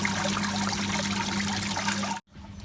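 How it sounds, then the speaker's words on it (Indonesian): Running water trickling and splashing over live freshwater mussels kept in a container, a steady close flow that stops abruptly near the end, with no talk. "air yang mengalir seperti ini"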